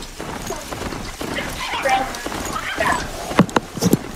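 A cow used as a mount in a video game plods along with hooflike clip-clop steps, with a few sharper clops near the end, under nearly constant talk from players.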